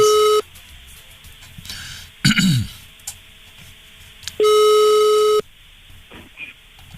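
Telephone call tones on a call placed from a private number: two long steady electronic ring tones separated by a gap of about four seconds, loud and clear, with a brief burst of voice and noise between them.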